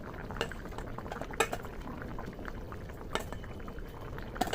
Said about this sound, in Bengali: দেখুন বন্ধুরা, ঝোলটা কিন্তু ফুটে গেছে।